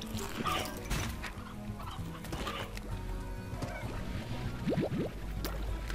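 Chickens in the video game Slime Rancher cluck and squawk repeatedly over a busy, layered ambient background, with bursts of close calls throughout.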